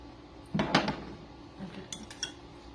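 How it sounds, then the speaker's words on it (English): A spoon clinks against dishes while scooping apple cider vinegar in a kitchen during tuna salad preparation. A few close, bright knocks come first, followed by lighter scattered taps against ceramic, with no talking. "let me get a spoon for this, and I'm just going to put a little bit of this in there"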